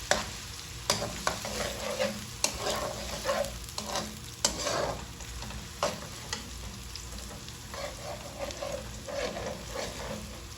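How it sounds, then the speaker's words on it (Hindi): Onions sizzle steadily in a pan while a utensil scrapes and stirs in repeated clattering strokes, close and fairly loud, no talking. "ये प्याज डाल के हम इसे थोड़ा सा नरम करेंगे"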